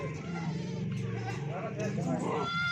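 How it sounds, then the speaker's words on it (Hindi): Makhi Cheeni goat bleating at a goat sale, its calls running under a man's continuous speech throughout. "ये माशाल्लाह से नंबर 1 पे मक्खी चीनी बकरी आ रही है"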